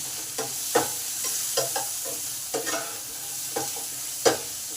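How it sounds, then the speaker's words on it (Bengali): Potatoes coated with salt and turmeric sizzle in a pan, with a spatula scraping and stirring in irregular strokes over the steady frying hiss; no voices. "নুন হলুদটাকে ভালোভাবে আলুতে মাখিয়ে দিলাম, দিয়ে 2 মিনিট ভালোভাবে নেড়ে নিলাম"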